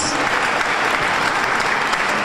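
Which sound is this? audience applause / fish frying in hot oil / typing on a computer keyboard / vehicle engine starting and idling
audience applause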